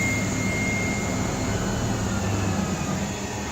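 A Tormach lathe spindle spins at around 2,000 RPM, producing a loud, steady, broadband whirring roar with a faint high whine, continuous and unchanging throughout.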